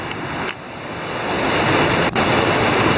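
Broad, steady roar of a waterfall in the Panamanian mountains, close and loud, a dense continuous rush of falling water with no voices.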